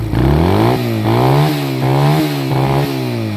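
A 1999 Honda Rebel 125 motorcycle engine revs up and eases off four times in a steady rhythm, loud and close, with no talking.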